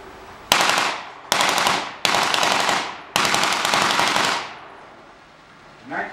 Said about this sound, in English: The 1919 30 cal Browning machine gun.